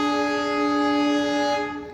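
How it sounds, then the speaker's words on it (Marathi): The locomotive of the Nanded to Shirdi passenger train sounds a long, loud, steady horn blast up close, holding for two seconds before beginning to fade. "आवाज बघा मित्रांनो काय जबरदस्त येत आहे इंजनचा"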